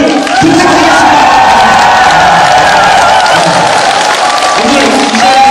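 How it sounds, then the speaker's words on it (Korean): A large crowd at a Korean group gathering claps and cheers loudly and continuously, a thick wash of applause with shouting voices mixed in, close and sustained throughout. "각자 자신을 위한 응원과 격려의 박수를 부탁드리겠습니다"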